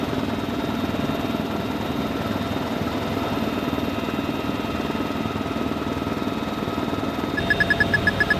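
UH-1Y Venom military helicopter flying over the desert, a steady loud rotor thrum and engine drone throughout, with rhythmic blade slap rising near the end.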